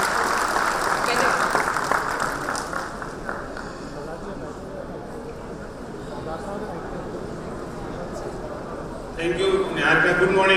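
An audience at a government panel on Punjab's startup ecosystem applauds steadily for several seconds, a dense wash of clapping with talking mixed in and a louder swell near the end.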